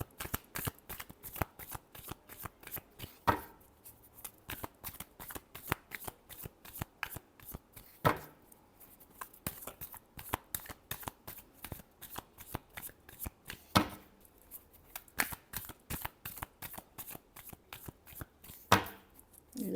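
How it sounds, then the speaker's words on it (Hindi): Tarot cards being shuffled by hand, a long run of quick, crisp riffling flutters with a few sharper snaps, close and moderately quiet with no talk. "Last shuffle."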